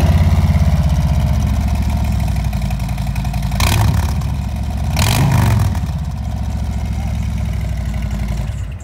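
A 2019 Harley-Davidson Street Glide Special touring motorcycle engine runs steadily up close, a loud low rumbling idle with two brief rev-ups swelling midway before settling back to idle.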